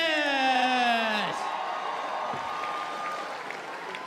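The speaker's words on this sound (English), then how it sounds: "Big round of applause, Mike Ellis." Crowd at a men's basketball grand final applauds the coach, starting under the tail of a loud announcer-style voice that slides down in pitch, then a softer, steady spread of clapping and crowd noise.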